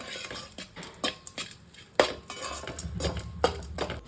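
A spoon stirring chili rice with garlic in a metal pan, with irregular clinks and scrapes, one sharper knock, and a soft frying hiss underneath.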